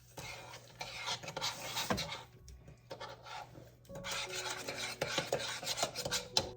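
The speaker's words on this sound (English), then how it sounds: "Stir in here." A cocoa and sugar mixture stirred in a pot, with a spoon rasping and scraping against the bottom in steady strokes, close and fairly quiet, briefly pausing midway, no voices.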